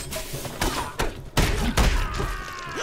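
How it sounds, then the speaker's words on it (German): Heavy thudding cannon shots fire in the action game 9 Monkeys of Shaolin, several booming impacts at irregular intervals over a busy fight soundscape with a voice talking in places. "Was schießt denn mit einer Kanone auf mich,"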